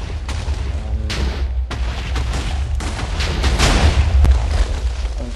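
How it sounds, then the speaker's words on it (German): Repeated booming TNT blasts in Minecraft, loud and continuous, with dense overlapping detonations building toward a heavier burst near the end; no voices. "Weil die Explosionen mich ja immer noch so zurückschießen."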